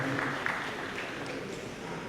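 A conference audience gives a brief round of applause, soft and even clapping that fills the hall for a couple of seconds at a moderate distance.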